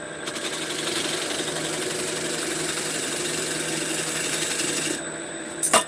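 A wood lathe spins a piece fast while a carbide turning tool cuts it, giving a steady, fairly loud whirring and scraping hiss that holds evenly before a brief clatter at the end.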